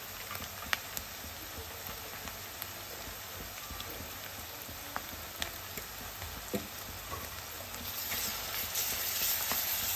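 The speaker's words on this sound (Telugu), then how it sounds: "నేను 1/2 టేబుల్ స్పూన్ అల్లం వెల్లుల్లి పేస్ట్ యాడ్ చేశాను." Ginger garlic paste sizzling steadily in hot oil in a pan, a continuous close crackling hiss with scattered small pops, growing slightly louder near the end.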